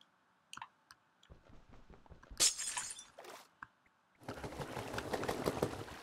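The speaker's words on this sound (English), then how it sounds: "I'm going to break some glass" Glass breaking in a Pokemon game set in Hoenn: a few scattered ticks and clicks lead into a bright crash and splintering shatter, followed by a longer noisy rush of breaking and tumbling pieces.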